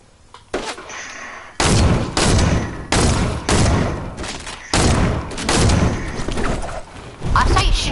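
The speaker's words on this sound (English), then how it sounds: "You're only using deagles." Desert Eagle pistol shots ring out in a video game as a rapid series of loud, close, sharp blasts, each trailing a short rumble, with some talk underneath.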